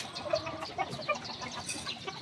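Chickens in a small backyard poultry farm cluck in short repeated bursts at close range over a soft outdoor background, with no talking.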